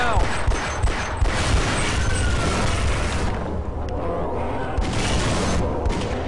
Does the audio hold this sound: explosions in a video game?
yes